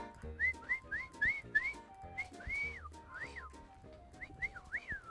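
A person whistles a series of short rising notes, then longer swooping tones, fairly close and clear with no talking.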